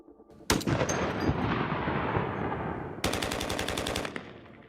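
Video game gunfire recorded in different environments: a long, loud burst of rapid automatic shots with a spreading echoing tail, then a second rapid burst that cuts off sharply into fading reverberation.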